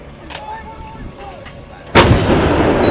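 Close, loud gunshot bursts out abruptly from quiet ambience, followed by sustained roaring, crackling fire-like noise that keeps going to the end.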